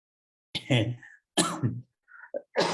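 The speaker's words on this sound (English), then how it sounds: "because I'm coughing a lot today" A few short, harsh coughs in quick succession, close to the microphone, separated by brief pauses.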